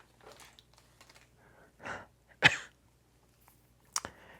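A few brief coughs or throat clears, one sharper burst near the middle and another near the end, with quiet rustling between.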